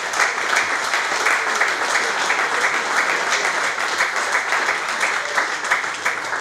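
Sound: applause for the football club presidents and coaches

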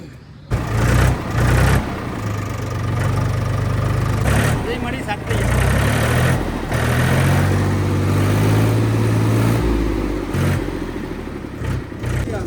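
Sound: Mahindra 265 tractor engine starting and idling

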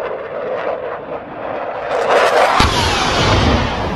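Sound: airplane flying

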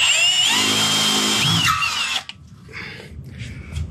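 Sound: drilling a hole with a letter I drill bit

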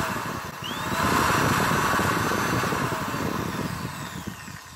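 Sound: corded power tool running at max RPM

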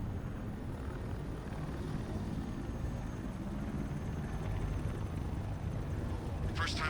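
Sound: drone flying in Batman Arkham Knight video game

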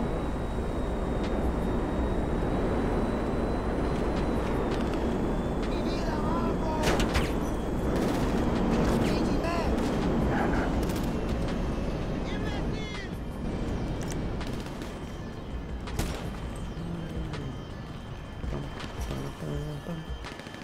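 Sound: gunfire in a video game

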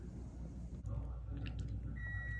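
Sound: electronic beeping

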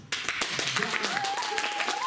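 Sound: audience applause

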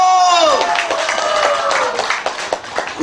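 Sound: audience clapping and cheering

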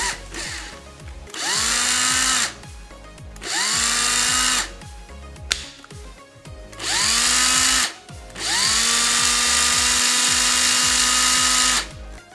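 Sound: cordless pencil drill running on rebuilt 18650 battery pack

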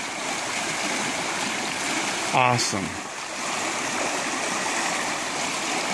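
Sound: creek water flowing over small ice jam waterfall

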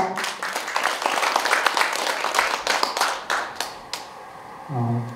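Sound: audience applause

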